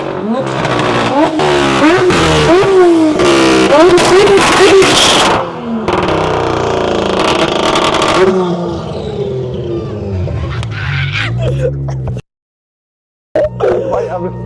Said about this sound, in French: La voiture va vite, elle grippe, les réglages sont super.